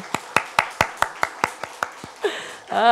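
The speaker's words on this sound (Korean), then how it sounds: "박수 한번 부탁드리겠습니다" A few people clapping in an even rhythm at a church gathering, about a dozen sharp claps close by, ending as a voice begins.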